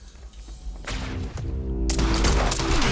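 Gunfire in a Remedy action game: a burst of loud, dense shots and impacts that swells into continuous firing with thuds and crashes, set over a low game soundtrack.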